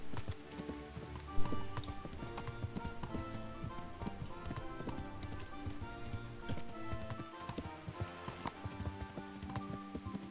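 Horse hooves clip-clopping in Kingdom Come: Deliverance, a steady trotting rhythm over a busy game soundscape with music-like tones, close and moderately loud throughout.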